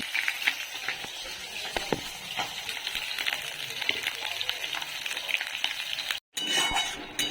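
Potatoes are stir-fried with spices in a pan, with a continuous low sizzle and frequent light clinks and scrapes of a utensil against the pan, briefly cut to silence near the end.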